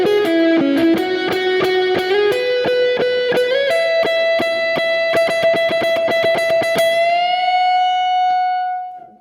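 An electric guitar lick from a guitar solo, played loud and distorted with picked notes and slides, settling into a long sustained note that rings out and fades.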